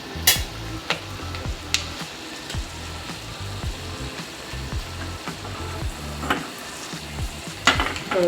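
Urad dal, peanuts and chillies sizzle in hot oil as a tempering for bisi bele bath, a steady frying hiss broken by repeated scrapes of a stirring spoon and a few sharp clinks against the pan.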